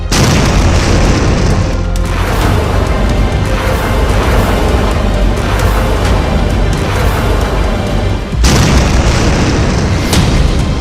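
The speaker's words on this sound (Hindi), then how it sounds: "जब ईरान की ये मिसाइल अपने टारगेट पर गिरती है तो धमाका ऐसा होता है" A loud, continuous roaring blast from an Iranian missile striking its target, with dense rumbling that persists for several seconds, then a second surge of booming near the end.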